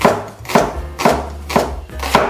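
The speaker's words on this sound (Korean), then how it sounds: "양파를 곱게 채 썰어주세요." A knife slices a quarter onion finely on a board, five sharp chopping strokes landing at a steady half-second rhythm, close and fairly loud with no talk.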